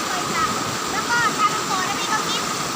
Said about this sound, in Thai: จะมีร่องน้ำที่ไหลมาจากฝั่งนี้แหละครับ